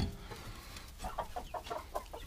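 Young laying hens in a newly built 25 m² coop give a quick series of soft, close clucks in an uneven rhythm, with no speech.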